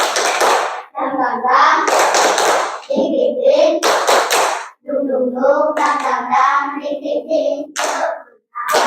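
A group of children performing a rhythmic 'tepuk semangat' clap routine in a classroom, with bursts of patterned hand claps alternating with loud chanted voices.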